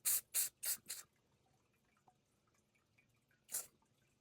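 Several short bursts of spray are misted onto a hummingbird feeder outdoors, four quick spritzes in a row, then a pause and one final spritz, close and fairly loud against quiet surroundings.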